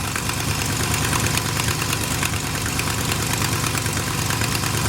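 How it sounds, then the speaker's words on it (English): A big-block Chevrolet squarebody truck engine idles nearby with a constant low drone and a rough, raspy hiss from an exhaust leak layered over it, no one speaking. "Obviously has an exhaust leak"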